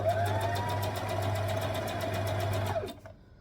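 Sewing machine stitching a folded hem on a Tulip Tee, a fast steady mechanical whir with rapid needle ticks and a low motor hum, close and loud, stopping abruptly near the end.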